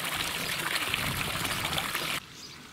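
Water flowing steadily from the Sainte Hune fountain in the Alsatian village of Hunawihr, a close, continuous splashing stream with faint birdsong, cutting to a quieter background near the end.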